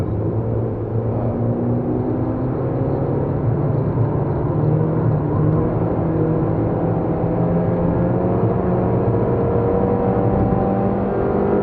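A Peugeot 206 S16 accelerates hard on a driving course at Clastres, its engine droning loud and steady with rising pitch from inside the car.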